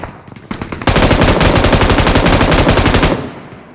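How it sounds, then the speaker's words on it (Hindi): Loud, rapid automatic gunfire in the BGMI battle royale game bursts in after a few faint shots and rattles steadily for over two seconds before tailing off. "इतने में पीछे से जो फायरिंग हुई"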